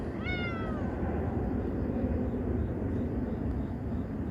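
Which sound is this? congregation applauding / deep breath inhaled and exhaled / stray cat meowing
stray cat meowing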